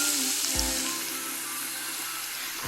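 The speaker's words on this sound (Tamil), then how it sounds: "கரைஞ்சி வச்ச பருப்பை வந்து ஊற்றிடலாம்." Dissolved lentils poured into a hot pan for sambar give a continuous bright hiss and sizzle, with a single soft low thud near the start as the liquid lands.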